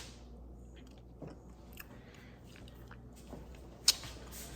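Close, quiet biting and chewing of a frozen vanilla cheesecake, soft crunches and moist squishes repeating at an uneven pace with one sharp crisp bite near the end, no talking.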